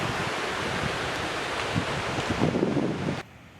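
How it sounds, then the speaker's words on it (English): Kuntala Falls in Telangana tumbles down two levels and splits through the rocks, making a continuous rushing hiss of falling water that stays loud and even before cutting off abruptly. "Kuntala Falls cascades down through 2 levels and bifurcates through the rocks."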